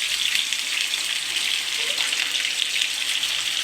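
Raw banana pieces fry in hot oil in a home kitchen, giving a steady, close, dense sizzling hiss that barely varies throughout, with no voices.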